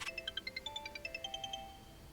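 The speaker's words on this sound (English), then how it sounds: "as Chris was heading back, his phone rang" A mobile phone rings nearby with a rapid series of bright electronic chime tones in a steady rhythmic pattern, repeating about a dozen times before fading out, heard alone with no talk.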